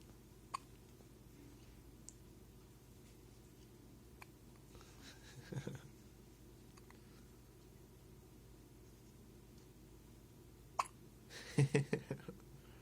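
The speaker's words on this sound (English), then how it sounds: "These must be your first hiccups." A baby hiccups softly, a few faint isolated hiccups early on and then a quick cluster of four or five near the end, over a steady low background hum.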